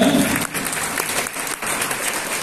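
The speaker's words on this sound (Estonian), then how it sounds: "teeme kõigepealt ühe suure soojendava aplausi meie jõudsidele" An audience at a beginner-level dance competition applauds the dancing couples, giving dense, lively clapping that fills the hall briefly and evenly.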